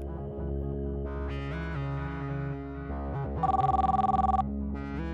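A telephone rings in a Bengali TV drama scene, giving a pulsing electronic trill that lasts about a second over a steady bed of background music. The ring is moderately loud and has no speech over it.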